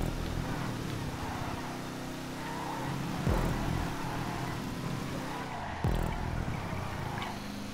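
A flying car's engine in a video game drones steadily and fairly loud throughout, with brief surges of revving and no talk over it.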